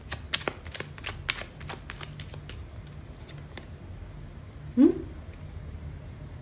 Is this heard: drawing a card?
yes